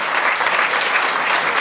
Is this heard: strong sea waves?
no